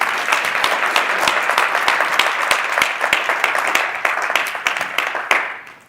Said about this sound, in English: I think that presentation deserves another round of applause,